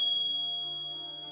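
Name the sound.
Buddha bell ringing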